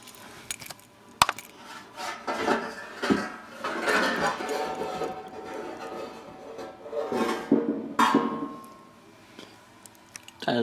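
Cooking pot and dishes handled in a home kitchen, with scattered metallic clinks, knocks and rattles spread across the clip, fairly close and alone without talk.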